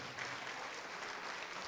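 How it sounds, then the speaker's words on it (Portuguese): A church congregation applauds together in a dense, steady wash of clapping that runs unbroken from start to finish at moderate distance. "E vamos aplaudir ao Senhor Jesus por cada vida que está vindo."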